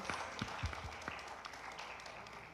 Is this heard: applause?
yes